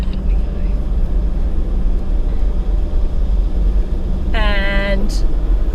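A four-wheel-drive vehicle rolls steadily along a dirt track in Macalister State Forest, Victoria, a continuous loud low engine and road rumble throughout, briefly overlaid by a voice near the end.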